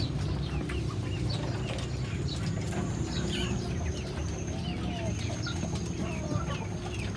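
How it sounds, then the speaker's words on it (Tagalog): Chicks and ducklings peep and cheep continuously over a dense low rumble, their many small calls close and overlapping in a busy brooder pen, with no one talking. "ating mga bibi kumain ng ating mga sisiw"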